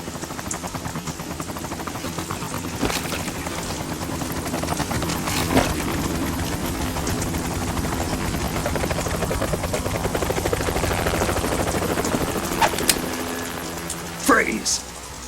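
A helicopter in the stealth game Metal Gear Solid 2 drones steadily with continuous rotor noise throughout, with in-game voices and occasional sharp effects over it.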